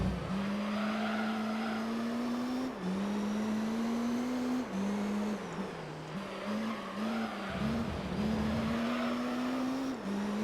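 Race car engine in the Gran Turismo 3 video game, droning high revs that climb through each gear then drop at shifts, with lifts and brief tire noise around a chicane, loud and close, no talking.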